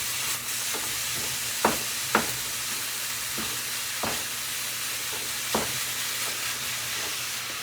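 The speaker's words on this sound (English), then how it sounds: "I'm just going to break this ground beef down as small as it can get." Ground beef fries with a continuous crackling sizzle while a spatula breaks it up, sharp scrapes and taps on the pan landing every second or two, close and with no voices.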